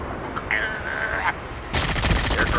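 Gunfire in a shooting video game: a dense, sustained burst of rapid shots fills the second half, after a quieter stretch with a thin tonal whine.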